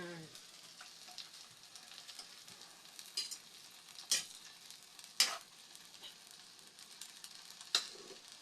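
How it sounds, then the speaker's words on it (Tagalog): Garlic and onion sautéing in a pan give a faint, steady sizzle broken by a few sharp clinks and scrapes of stirring. No one talks. "Gisa ko lang sa bawang sibuyas"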